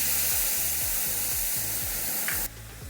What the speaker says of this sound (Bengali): টমেটো পেস্ট আমি ভালো করে কষে নিয়েছি, দেখুন তেল ছাড়ছে।